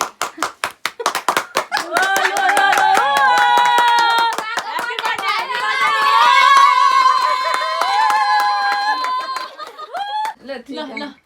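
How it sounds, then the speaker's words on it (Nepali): Hands clap at a grandfather's birthday celebration, starting as distinct claps and then continuing as a rapid clatter under singing voices and laughter before fading near the end. "ताली ताली ताली ताली।"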